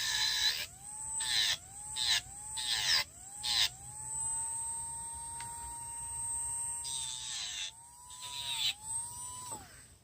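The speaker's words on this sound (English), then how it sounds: "I am using my Marathon micromotor because neither one of my new ones have come in yet." Marathon micromotor nail drill filing acrylic nails, its high electric whine rising and dipping in pitch as it starts and stops repeatedly in short bursts, then holds a steady tone before a few more brief spurts, close and clear.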